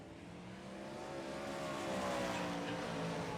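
410 sprint race cars roar off a restart at Volusia Speedway, a dense engine drone whose pitch climbs as the pack accelerates, heard at a distance and growing steadily louder.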